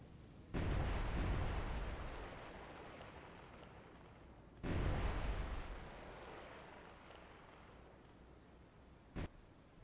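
A naval cannon fires twice in the submarine game Cold Waters, each a sudden loud boom trailing off into a long rumble, followed by a brief sharp thud near the end, with no speech.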